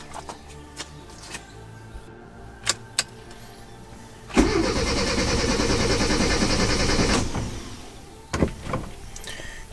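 A 1998 Ford Bantam cranks and fires, settling into a steady run for about three seconds before cutting off, with a few clicks and knocks before and after.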